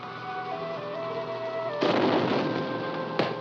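Blasting explosions in a 1944 film, a low continuous rumble with a strong burst partway through and a short sharp crack near the end, heard at a distance without talk.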